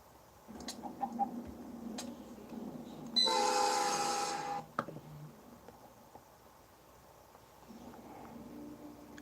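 A CSX freight train sounds its horn in one steady blast of about a second and a half, fairly distant, over a low, faint rumble and light background noise.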